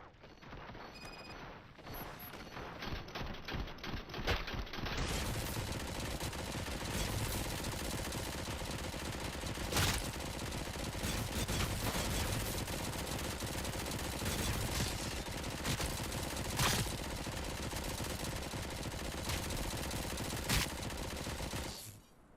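Sustained heavy gunfire in the RoboCop Rogue City video game: after a few quieter seconds, a loud, dense, continuous barrage of automatic shots and impacts keeps going without a break.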